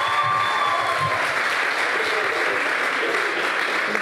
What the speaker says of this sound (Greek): θέλω ένα ζεστό χειροκρότημα ώστε τα παιδιά να βγουν για πρώτη φορά στη σκηνή